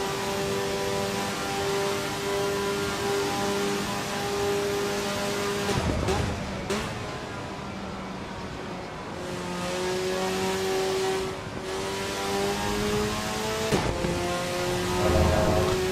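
Race cars in the AC Evo racing game at Watkins Glen rev hard with sustained engine whine, punctuated by several quick gear-shift cuts and a brief tire squeal, steady and fairly loud throughout.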